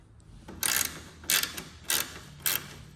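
A Husky ratchet wrench turns bolts on a Chevy Silverado truck grille, giving four bursts of fast ratcheting clicks, loud and close, with short pauses between.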